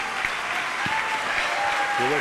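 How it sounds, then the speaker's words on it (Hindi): Audience applause in honour of a civil service topper at a Jain religious gathering, a dense steady wash of clapping from a large crowd with a brief tonal voice or whistle near the end. "जोरदार तालियों के साथ सिविल टॉपर के सम्मान में तालियां हो जाएं"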